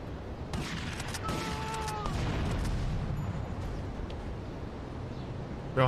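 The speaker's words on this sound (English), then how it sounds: "there's a bunch of explosions going on already" Gunfire and explosions in the video game Grand Theft Auto: Liberty City Stories, a steady dense barrage of shots and booms with a brief tonal sound midway and a sharp louder hit at the end.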